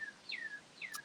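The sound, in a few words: birds chirping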